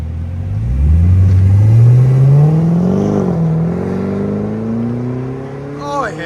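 A supercharged 6.2-litre V8 in a 2012 Cadillac CTS-V with a Carven exhaust revs up in one long, rising pull, loud and close, then settles and sweeps up again near the end, with no talking over it.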